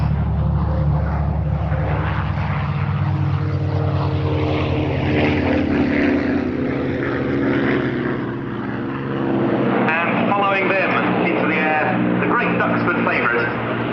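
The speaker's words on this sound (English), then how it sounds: "lined up now and thus rolling from the hard runway, the North American P-51D and TF-51D Mustangs." North American P-51D and TF-51D Mustang warbirds roll on a hard runway at the Duxford Battle of Britain airshow, their piston engines droning loudly and steadily while an announcer talks over the public address.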